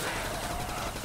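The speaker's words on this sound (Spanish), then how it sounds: "te estoy pegando un montón de tiros y no te mueres" Continuous dense gunfire from Call of Duty: World at War fills a zombie custom map, a steady unbroken rattle of rapid shots heard alone and close.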